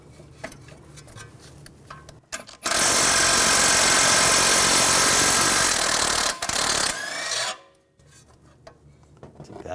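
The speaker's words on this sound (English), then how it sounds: "Using a 21mm socket, we're going to take this nut off" A 21mm socket on a power tool spins off a tie rod nut on a 2006-2010 BMW 550i: a loud, harsh, rattling burst lasting about five seconds, between quieter workshop handling noises.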